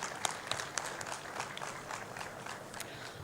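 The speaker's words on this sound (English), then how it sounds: "Please give them a very warm round of applause." Applause from a conference audience after panelists are introduced at a CFO event, a steady moderate patter of many hands clapping with a few sharper claps, no talk.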